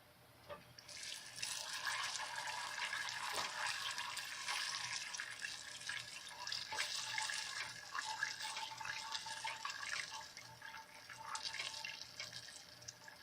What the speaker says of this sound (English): You hear it bubbling.